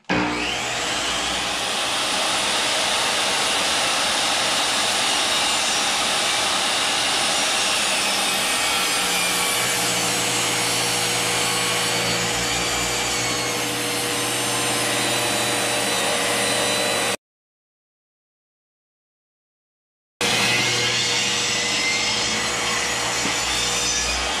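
A Ryobi table saw runs with a loud, steady whining roar that holds constant for about seventeen seconds, cuts out to brief silence, then resumes at full volume, with no talk.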